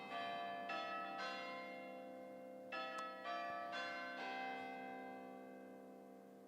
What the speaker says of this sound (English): Listen to some church bells.